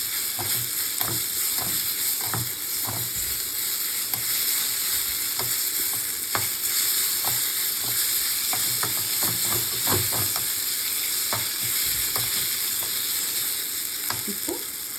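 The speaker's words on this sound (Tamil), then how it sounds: "மஞ்சப்பொடி, மாங்காய் கொஞ்சம் வதக்கிக்கணும்" Raw mango pieces with turmeric powder sauté in a hot pan for Tamil-style mango rice, giving a steady, close sizzle with a soft hiss and frequent scraping strokes of a spoon all the way through.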